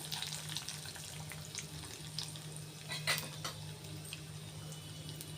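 Dried red chillies and curry leaves frying in a tempering for a sweet bitter gourd curry, a faint steady sizzle with a brief louder spatter, no talking.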